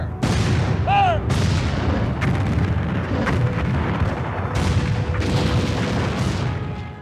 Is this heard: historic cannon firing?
yes